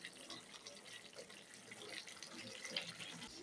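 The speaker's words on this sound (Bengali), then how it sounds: "চানাটা সিদ্ধ করে যে জলটা রেখেছিলাম সেটা এর মধ্যে এবার দিয়ে দেবো" Reserved chickpea cooking water is poured into spiced chana masala, a faint steady splashing trickle that runs continuously throughout with no talking.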